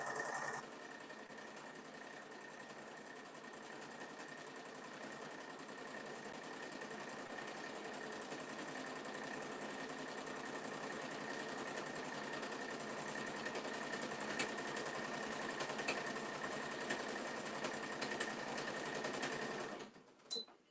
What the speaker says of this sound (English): I am currently sewing our panels for a bag.